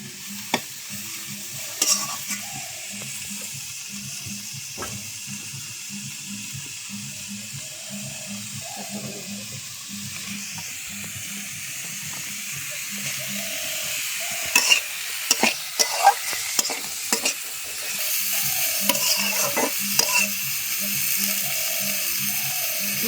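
Potatoes frying in a pan with turmeric and coriander, a soft ongoing sizzle under repeated scraping stirs that grow into louder clattering knocks toward the end.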